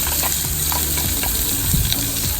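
Sliced onions frying in hot oil in a biryani pot for Kozhikode dum biryani, a loud, steady close-up sizzle with occasional stirring scrapes and no talking.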